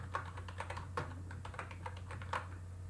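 Rapid typing on a computer keyboard while writing a for loop in code, irregular quick key clicks at moderate level over a steady low hum, no voices.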